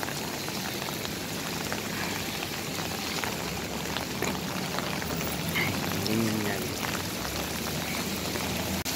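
Heavy rain in Qatar pours down in a dense, continuous hiss of drops splashing on hard surfaces, steady and fairly loud throughout, with no voices.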